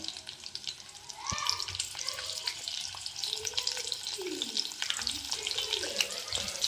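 Green chillies sputter in hot oil, making a continuous crackling sizzle with frequent small pops. A faint voice can be heard murmuring in the background.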